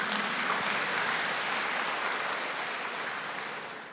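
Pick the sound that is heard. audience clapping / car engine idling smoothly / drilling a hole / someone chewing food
audience clapping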